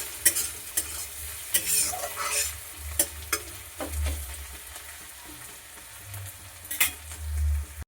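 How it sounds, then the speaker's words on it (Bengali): Onions fry in a wok (kadai) with a steady sizzle, while a spatula scrapes and stirs in repeated close strokes, some of them louder knocks against the pan. "কড়াইতে আগে পেঁয়াজটা দিয়ে দিয়েছি। পেঁয়াজটা ভালো করে ভেজে নেব।"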